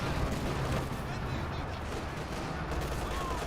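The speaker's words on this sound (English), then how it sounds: "Assault grenades have been thrown." Assault grenades explode amid a battle in Company of Heroes 2, with dense rumbling blasts and gunfire blending into a continuous loud roar.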